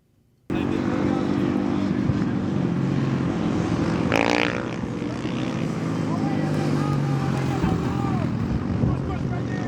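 Supermoto motorcycles on a cool down lap after a 450 race, engines droning steadily and close by throughout, with a louder pass midway and people talking over the engine noise.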